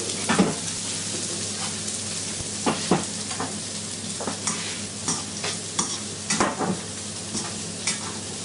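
Salmon stir fry sizzles loudly in a hot pan, a constant bright hiss broken by repeated scraping and tossing strokes of the utensil against the metal, close up with no talking.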